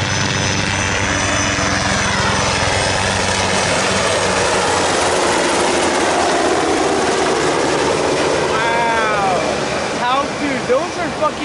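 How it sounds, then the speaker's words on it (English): Military helicopters pass overhead with a loud, sustained rotor and engine roar that holds steady and begins to fade near the end, while voices talk over it. "What are those helicopters called?"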